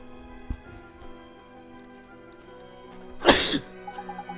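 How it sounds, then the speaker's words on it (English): A single sharp allergy sneeze bursts out close to the microphone over a quiet background, with a soft click earlier. "I'm actually having some weird allergy issues, so might be sneezing a couple more times."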